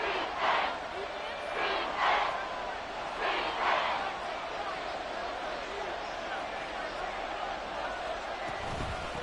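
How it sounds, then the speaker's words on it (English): Stadium crowd noise from a Madden NFL football game, a steady roar with swelling cheers during a goal-line play, running continuously under the game audio. "This crowd doing all they can."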